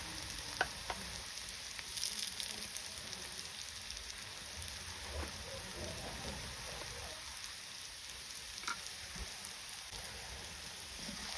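Onion, ginger and spices frying in a pan, a faint, soft sizzle with occasional light stirring knocks, quiet and continuous with no voices.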